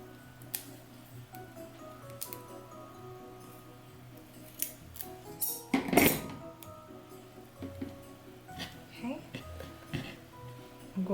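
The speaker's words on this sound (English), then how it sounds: "So I'm just going to cut a piece about yay long, and I'm also going to cut it in half." Scissors snip double-sided adhesive tape for a craft project, with a few scattered close clicks and cuts and one louder crunch in the middle. The snips are quiet and sparse, and faint talk runs intermittently underneath.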